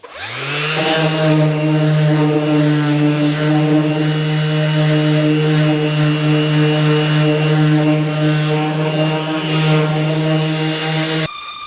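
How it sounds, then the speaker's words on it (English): Dual-action sander with a fresh 80-grit pad grinding surface rust off metal, a loud continuous droning whine with a strong steady pitch that runs for about eleven seconds and then cuts off abruptly. "It's just got a new 80 grit pad on the DA. So I'm just going to go over this quickly"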